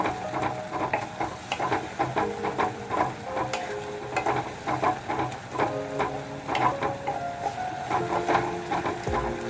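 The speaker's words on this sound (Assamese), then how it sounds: "এইখিনি মই নৰখাকৈ লৰাই আছোঁ, একদম পুৰা গোটেইখিনি ভালদৰে লৰাব লাগিব।" Fish masala curry is stirred steadily in a pan, with continuous sizzling and repeated scraping strokes of the spoon against the pan throughout, close and fairly loud with no talking.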